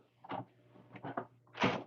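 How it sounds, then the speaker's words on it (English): A door opens or closes indoors with a few soft, muffled knocks and thuds spread over about two seconds, faint and close. "I heard a door."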